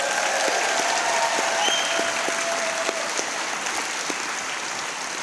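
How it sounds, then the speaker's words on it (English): An audience at a Unitarian Universalist general assembly session claps in sustained, fairly loud applause with a crowd murmur, steady and continuous throughout. "Can we get a round of applause for your 2015 Right Relationship team?"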